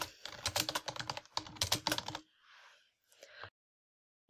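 Rapid keystrokes clatter on a computer keyboard in quick bursts with short pauses, close and crisp, ending with a couple of isolated key presses.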